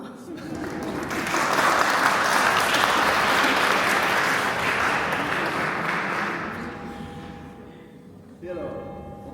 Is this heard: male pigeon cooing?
no